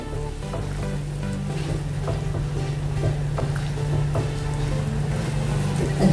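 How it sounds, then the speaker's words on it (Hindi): Water bubbles and roils at a steady boil in a pot, a constant hissing churn with a low hum underneath, close up and without speech. "अच्छे से उबाल आ गया है पानी को"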